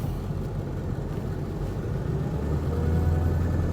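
A 2001 Ford Excursion XLT 7.3L Powerstroke diesel 4WD drives along, giving a steady low engine drone and road rumble heard from inside the cab, with no talk.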